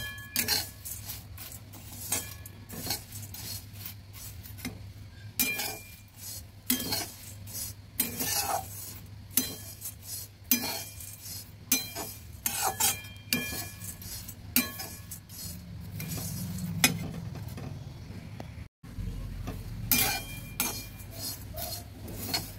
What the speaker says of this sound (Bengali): তেল ছাড়াই আমি চিড়েটা ভেজে নিচ্ছি।